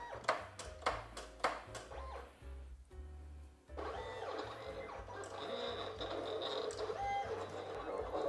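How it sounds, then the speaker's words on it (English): A vinyl cutter working through a sticker job, a small-budget sticker machine, gives off a run of sharp stepping clicks and then a steady whirring, buzzing motor drone with shifting pitch, close and fairly loud throughout. "I'm gonna send it and see how our vinyl cutter does its job"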